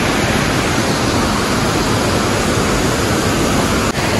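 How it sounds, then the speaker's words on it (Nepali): A waterfall on a mountain trek roars as a steady, dense rush of water that stays loud and unbroken throughout, with no voices over it. "यहाँ चाहिँ बवाल खालको झर्ना रहेछ"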